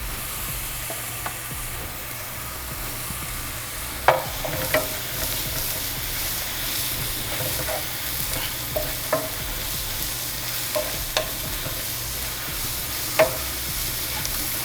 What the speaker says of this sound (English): you want to saute these up to a nice golden brown color. Now we're going to go in with our shallots and garlic